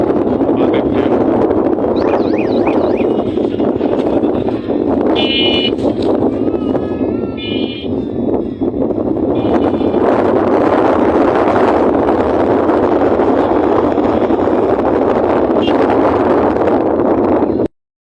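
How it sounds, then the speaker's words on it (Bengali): Strong, steady wind buffeting the microphone at a riverside tourist spot at Reshambari, Shahjadpur, a continuous broadband roar lasting throughout with faint brief tonal sounds in the background. "অসাধারণ একটা সমুদ্র মতো বাতাস"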